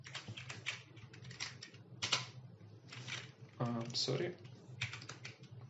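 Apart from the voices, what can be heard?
typing a command on a computer keyboard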